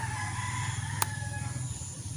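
A rooster crows faintly in the distance over a steady low hum, with one sharp click partway through.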